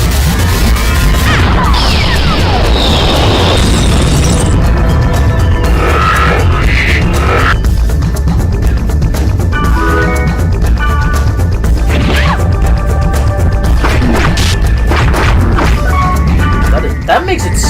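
Missile explosions in the video game DotHack, loud repeated crashes and booms layered with game effects and music, while a player talks over the action.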